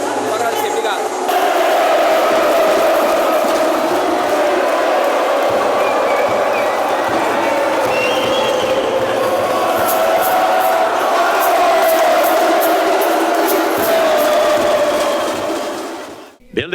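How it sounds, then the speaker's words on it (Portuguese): Futsal supporters at a match in Rio Grande do Sul roar and chant as a loud, steady crowd wall lasting several seconds before cutting off abruptly at the end. "agradecer a torcida aí que fez uma festa linda"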